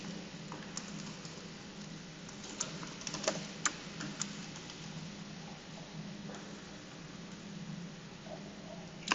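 Soft, scattered keystrokes on a computer keyboard while a password is entered, faint clicks over steady background hum with no talking.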